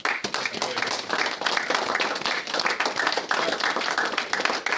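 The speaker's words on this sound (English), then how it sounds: "I think you all need a good cheer" Sustained applause from an audience at a ministerial project launch, dense, steady clapping filling the room for several seconds, with faint voices mixed in.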